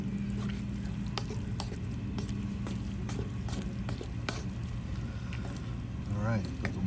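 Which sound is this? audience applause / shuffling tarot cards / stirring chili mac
stirring chili mac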